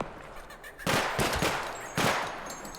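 Robot enemies fire on the player in the video game Project Silverfish, two loud bursts of rapid gunfire with crackling impacts, the first lasting about a second and the second trailing off, over a low game background.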